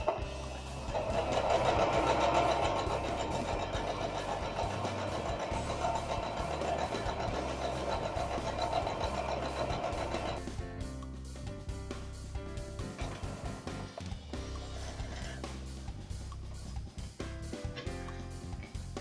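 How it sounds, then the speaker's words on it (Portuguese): A sewing machine stitches and gathers fabric for a vintage apron, with a steady close motor whir running continuously for about ten seconds before easing into quieter, intermittent running. "Na hora que eu for costurar, ele vai franzir a peça pra mim"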